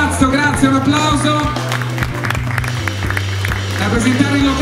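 Applause from the audience at a beauty pageant evening in a club, steady clapping and crowd noise under a host's amplified voice over background music.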